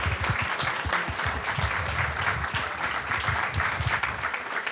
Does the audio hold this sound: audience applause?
yes